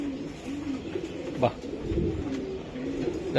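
A racing pigeon coos in a loft, soft repeated throaty calls close by, with a brief tap or clatter midway and faint background noise.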